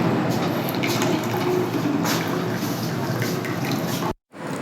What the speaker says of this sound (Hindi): यखनी को हमने इस तरह से छान लेना है।